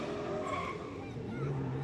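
A drift car at a British Drift Championship pro round spins out, its tires screeching and skidding over a loud engine roar, heard beneath excited commentary.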